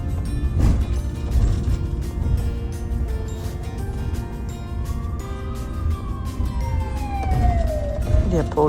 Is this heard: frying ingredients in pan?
no